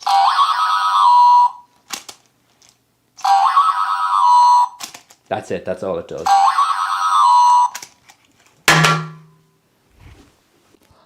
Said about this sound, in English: this 1980s punching toy, complete with terrible sound effect